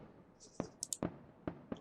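A celebratory fireworks effect plays in the mobile game Truck Simulator Ultimate after a truck is won from a box: a few sharp, spaced pops with short high whistling tones over a faint background hum.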